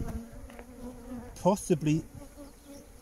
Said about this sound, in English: frames of bees in one swarm